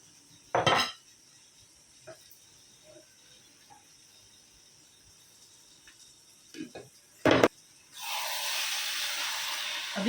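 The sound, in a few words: stirring basmati rice with chicken in a pot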